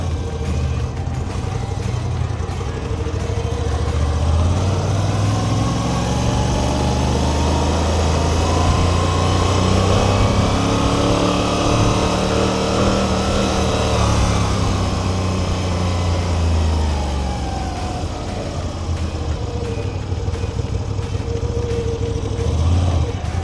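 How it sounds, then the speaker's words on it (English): A Moto Guzzi V85 TT motorcycle engine runs loud and close while riding through Chicago's Pilsen neighborhood, a steady throbbing drone whose pitch rises and falls as the throttle changes across the whole stretch, with no voices over it. "You know, it sounds like an old bike."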